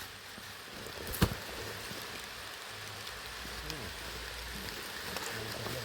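Rain falls outdoors during termite mushroom picking, a soft, steady hiss of drops on surfaces with one sharp knock near the start and faint voices at times.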